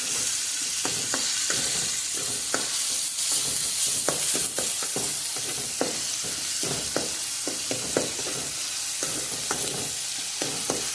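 Chopped onion and garlic for Punjabi saag roasting in a pan, with a steady sizzle and repeated scraping, stirring clicks throughout.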